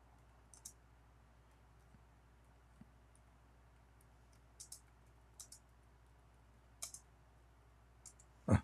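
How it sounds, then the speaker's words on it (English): A computer keyboard is typed on in a quiet room: a handful of faint, sparse key clicks scattered irregularly, with single taps and short pairs, and a slightly louder knock at the very end. "I'm typing in Arabic."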